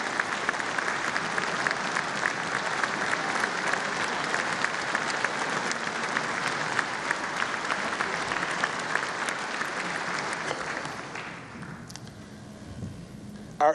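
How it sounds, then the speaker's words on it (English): An audience in a legislative chamber applauds during the 2018 West Virginia State of the State address. The dense, sustained clapping runs about eleven seconds, then fades to quiet room noise with a thump at the end. "So please give them a great round of applause."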